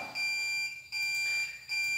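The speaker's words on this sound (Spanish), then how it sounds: "Voy a hacer una prueba donde vamos a disparar una alarma" An alarm triggered during a KNX home automation test sounds as a loud, shrill electronic tone in long pulses, three repeated bursts separated by brief dips, close and without speech.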